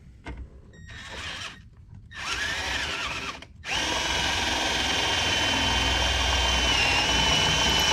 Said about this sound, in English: drill a 1/4-inch hole through there